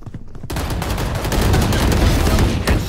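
Dense, continuous gunfire from a tactical shooter video game, a sustained fusillade of overlapping shots that starts abruptly after a brief quiet moment and stays loud throughout, with a sharp burst near the end.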